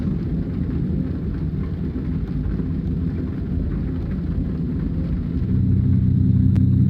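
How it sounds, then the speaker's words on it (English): Steady rain with low rumbling thunder in American Truck Simulator, heard from inside a truck driving a California route, a continuous dense wash that swells slightly louder near the end. "Still raining. There's a little thunder, lightning over there."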